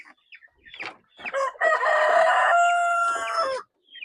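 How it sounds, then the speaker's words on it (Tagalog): A rooster crows loudly and close by in a backyard farm flock that includes Rhode Island Red, Plymouth Rock and native chickens. The long, wavering call follows a few short clucks. "May kasamang native chicken."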